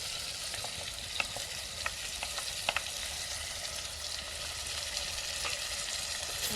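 Crushed tomato, green chili, ginger and coriander sizzle in a hot tempering for village-style khichdi, a steady crackling fry with scattered sharp pops and light stirring scrapes, no voices.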